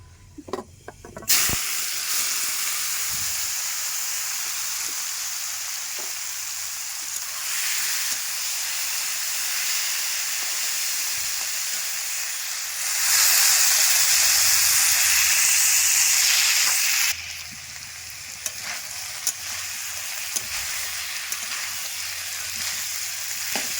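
Potatoes frying in a pan during home cooking give off a steady, close hiss and sizzle that swells louder for a few seconds midway before settling back, with no voices.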